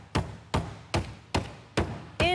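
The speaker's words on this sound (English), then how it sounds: "I'm using a meat mallet." A meat mallet pounds food down into crumbs with six sharp, evenly spaced thuds, close and clear, with no talking.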